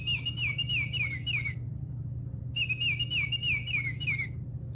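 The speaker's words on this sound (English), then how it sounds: "the Oriole" A songbird identified as an oriole sings clear, whistled phrases in two bursts separated by a short pause, fairly close, over a steady low hum.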